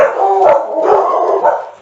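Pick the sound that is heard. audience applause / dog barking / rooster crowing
dog barking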